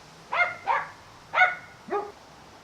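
A dog barks four times in two quick pairs, fairly close and clear against a quiet background.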